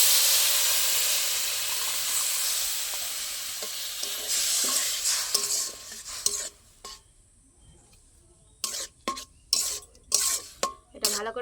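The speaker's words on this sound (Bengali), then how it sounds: "এটা ভালো করে শুকিয়ে একটা ডো বানিয়ে নেব।" Semolina and water are stirred in a hot pan into a stiff dough, starting with a steady steamy sizzle that fades, then a series of distinct scraping stirs and clacks against the pan, fairly close, with no talk.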